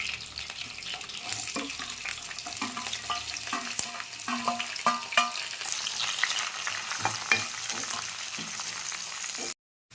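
Finely chopped onions fry in oil with curry leaves and green chillies for a fish curry, a close, crackling sizzle broken by the scrape and clatter of stirring, ending in a sudden cut to silence.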